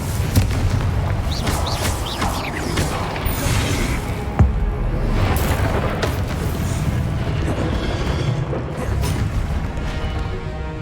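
Repeated Confringo explosive spells in Hogwarts Legacy, heavy booming blasts and crashes going off one after another in a dense, loud barrage, with sharp bursts near the start and middle over a rumbling roar.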